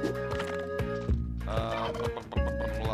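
A turkey in Spelunky 2 gobbles in quick, warbling bursts, several rapid throaty rattles repeating over about three seconds, loud and close against game background sounds.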